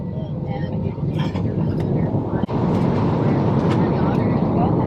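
A passenger airliner's engines roar steadily through the cabin during the takeoff roll, a loud, continuous broadband rumble that holds at near-constant level for several seconds with only a brief dip midway.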